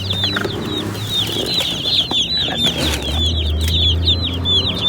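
Meat chickens clucking and chattering together at close range, a continuous busy flock sound with overlapping calls and some rustling.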